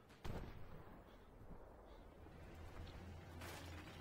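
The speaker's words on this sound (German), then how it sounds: "Nur die Arti trifft mal wieder" Artillery shells hit in Armored Warfare with a sharp blast near the start, then rumbling battle noise and a low engine drone, with another muffled impact toward the end, all fairly distant and subdued.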